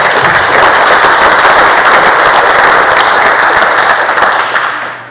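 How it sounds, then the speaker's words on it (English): Loud, dense round of applause from a chamber of commerce forum audience for Mark Hackler, a full roar of many clapping hands close by that holds steady, then begins to taper off near the end. "I'd like to offer him a round of applause."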